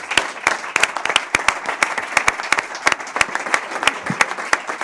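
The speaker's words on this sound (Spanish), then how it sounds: "un aplauso muy fuerte para él" Steady, fairly loud audience applause at a university sports program presentation, many hands clapping continuously with sharp individual claps standing out.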